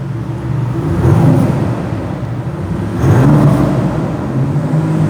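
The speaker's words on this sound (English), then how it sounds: "Can you rev it a bit?" Maserati MC20 Cielo engine revved while parked after warming up, two deep swelling blips rising over a steady idle rumble, loud and close, with no talking.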